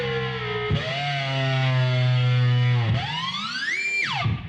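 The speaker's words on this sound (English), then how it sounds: "if I'm using a whammy with distortion," A bass guitar runs through whammy and distortion pedals, giving a gritty sustained note that slides and jumps in pitch, with sweeping shifts near the end, loud and alone without talk.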